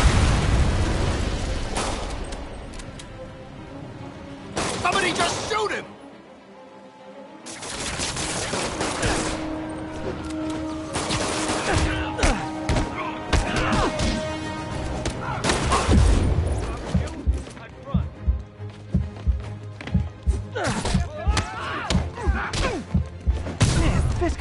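Loud bursts of gunfire and booming shots fill a video game battle, coming in clustered volleys with a brief lull midway, then rapid repeated shots toward the end.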